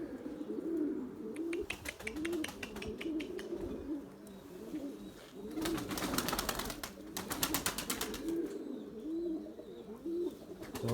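Pigeons in a coop coo in repeated low rounded calls across the whole stretch, close and steady, with scattered clicks and rustles between the calls.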